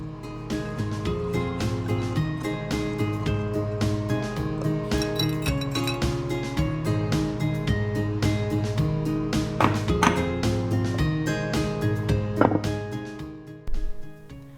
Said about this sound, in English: I'll grab a whisk and mix that together well